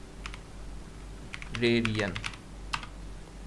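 A search query is typed on a computer keyboard, with scattered soft keystrokes followed by a short burst of clicks, while a voice briefly speaks nearby.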